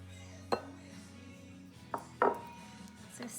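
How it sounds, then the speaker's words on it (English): Eggs and wet ingredients for breakfast cookies stirred together in a mixing bowl, giving a few distinct clinks and scrapes of a utensil against the bowl over a quiet background. "So stir it all together."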